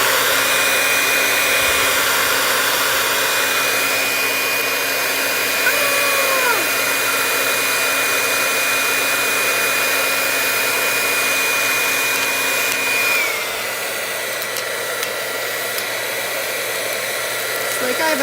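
A handheld hair dryer blows a steady, loud broadband rush with a constant whine, running continuously for most of the stretch before easing to a slightly lower setting near the end; faint speech surfaces briefly beneath it.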